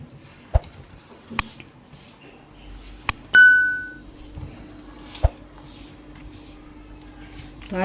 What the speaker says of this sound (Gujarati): તો આ રીતે મોણ મિક્સ કરી લેવાનું.